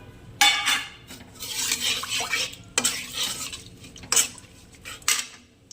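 Bay leaf and cinnamon sizzle in ghee in a wok during pulao preparation, with a series of loud scraping and clattering bursts as the spices are stirred, close up and with no talking.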